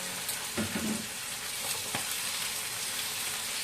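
Chicken livers sizzle in a pan with garlic for adobo: a steady, moderately close crackling fry with a few light stirring knocks early on and no talking.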